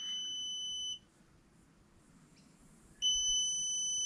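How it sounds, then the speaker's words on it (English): A QUCC battery BMS alarm emits a continuous high-pitched electronic beep tone that cuts out for about two seconds, then resumes, heard close and alone. "Still beeping."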